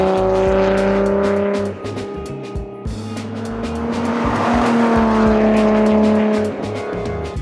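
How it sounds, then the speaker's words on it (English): A Nissan Skyline R34 V-Spec with its RB26 engine passes on a flyby, the loud engine note rising and falling with tire noise as it sweeps by close, continuous throughout. "just sent him to go do like a lap or two so I could get some flybys"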